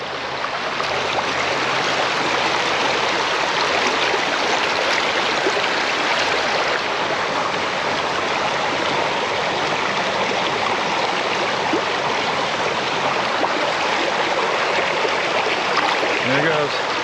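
Continuous rushing flow of a mountain trout stream where a small creek enters a deep pool, a loud, steady broadband wash of water close by.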